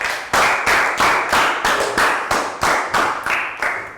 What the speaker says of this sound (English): Big round of applause for Pearl.